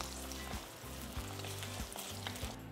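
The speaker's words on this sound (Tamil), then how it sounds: "நம்ம எடுத்துருக்கிற சின்ன வெங்காயம் கொஞ்சம் வதங்கி வரப்போ" Small shallots frying in oil for a bitter gourd kuzhambu, a steady close sizzle with a low rhythmic pulse and a few brief stirring scrapes, no voices.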